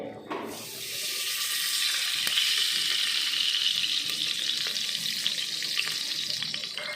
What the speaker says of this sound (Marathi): आता इथं माझा कुकर तापला आहे तर मी त्याच्यामध्ये तूप घालून घेणार आहे